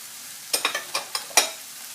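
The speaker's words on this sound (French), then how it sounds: "Là, j'ai mis la deuxième cuillère à soupe d'huile d'olive et je vais mettre la viande." Chicken and onions cook in olive oil in a pan, heard as a quick run of six sharp scrapes and crackles up close, then a quiet background.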